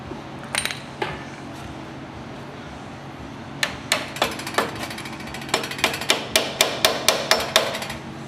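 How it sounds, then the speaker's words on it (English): A hammer strikes the knurled ring of a Graco FinishPro 395 paint sprayer, starting with a few scattered taps and then settling into a steady run of about a dozen sharp, close metallic blows. "Just hit it with a hammer."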